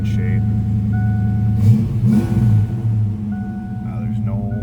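A stock 1988 Ford Mustang GT with a 5.0 V8 idles steadily, its low, even rumble continuing underneath a voice.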